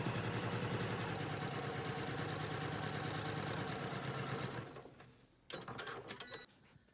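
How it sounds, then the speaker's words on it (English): A sewing machine runs a quilt seam off the end of the fabric, a steady close mechanical whir lasting several seconds before stopping, followed by a few clicks and handling noises. "And then we'll just sew all the way off the end."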